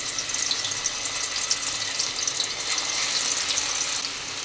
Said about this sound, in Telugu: ఒక్కొక్క పీసు ఇందులో వేసుకొని ఫ్రై అయితే చేసుకుందాం